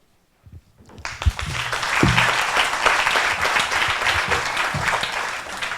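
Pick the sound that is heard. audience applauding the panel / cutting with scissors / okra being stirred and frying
audience applauding the panel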